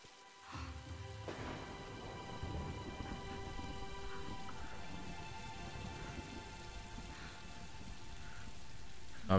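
Soft, steady rainfall with a low rumble of thunder underneath in the video game Tomb Raider, faint and continuous throughout, no voices.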